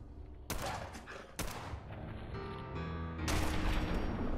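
Gunfire in the video game Fallout 4: three abrupt, loud bursts of shots at spaced intervals, the last running on into sustained firing over a steady background of game sound.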